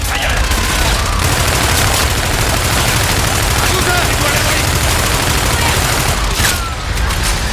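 Gunfire in a video game rattles on in a loud, dense, continuous barrage of rapid shots and explosions across the whole stretch, with no clear pause.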